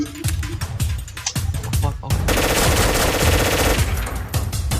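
Machine gun fire in a video game match, rapid bursts of shots that start in short clusters and then become a dense sustained rattle, loud and close, with voices and game sounds mixed in.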